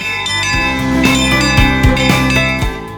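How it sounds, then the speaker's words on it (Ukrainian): Church bells ring in a dense, overlapping peal of repeated strikes and long shimmering tones, steady and fairly loud throughout, during a university community's pilgrimage to a church on the feast of the Ascension. "ці дзвони, які дзвонили, коли ми підходили до храму"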